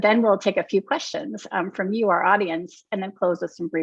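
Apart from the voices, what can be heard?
No everyday noises stand out.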